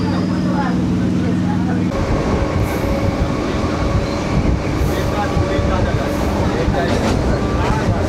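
A Sealdah–Diamond Harbour local train leaves Basudanga station with a loud, continuous rumble and clatter of wheels, close and steady throughout.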